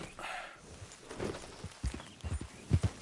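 A horse's hooves clop in Red Dead Redemption 2, a few faint, irregular thuds building toward louder close steps near the end, with a soft breathy sound early on.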